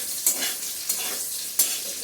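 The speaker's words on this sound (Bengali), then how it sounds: "আলুটা ভাজা হয়ে গেছে" Potatoes fry in oil in a pan, part of a home recipe with duck eggs and onion, in a continuous hissing sizzle broken by three sharp scraping stirs at close range.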